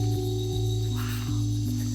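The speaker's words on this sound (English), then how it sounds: "That's the sound of the forest." Dense, steady cricket trilling fills a Costa Rican forest at night in Bribri territory, with layered high insect tones and low pulsing chirps that continue unbroken and close.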